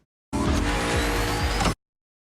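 Car engine from a Furious 7 film scene, a loud, sustained revving roar with squealing tires, lasting just over a second before cutting off abruptly.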